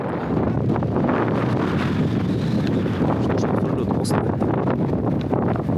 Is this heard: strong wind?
yes